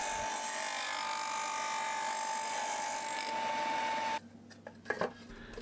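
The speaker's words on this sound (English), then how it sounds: "I did the shaping at the disc sander" A disc sander shapes the edges of plywood panels for bedside drawer box shelves, a steady whine of the running motor for about four seconds, then the sound cuts out to a few faint knocks.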